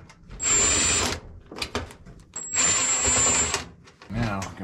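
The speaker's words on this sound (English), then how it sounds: "on the back side, we've got one, two, and three screws to remove." A power drill backs screws out of the rear panel of a GE front-loading washing machine in two long whirring bursts with short ratcheting spurts between them, loud and close.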